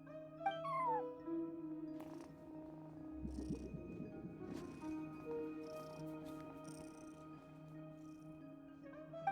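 A cat at a front desk in the video game Genshin Impact lets out a couple of faint, short meows over quiet ambient game music and a soft murmuring background.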